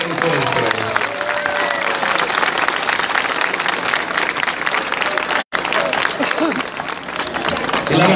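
A crowd claps steadily during an outdoor Holy Burial religious procession in Comayagüela as parishes exchange greetings. The dense applause carries on throughout with crowd noise and voices mixed in, broken only by a brief dropout.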